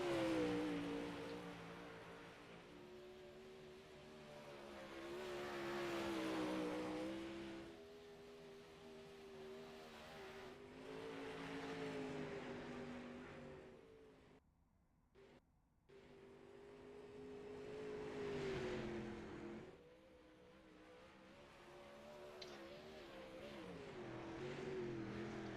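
A race car engine in an iRacing sprint car league race, a steady droning roar that rises and falls with revving, briefly cutting out midway before resuming.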